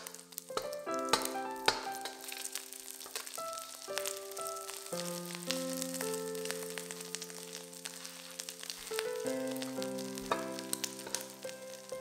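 Mashed salted egg yolks fry in about a tablespoon of oil in a pan over low heat, giving a quiet, steady sizzle with fine crackles under sustained background music, with no speech.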